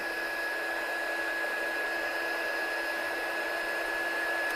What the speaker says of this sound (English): I'm just going to take my gun now, it's hot, and I'm just going to heat set that.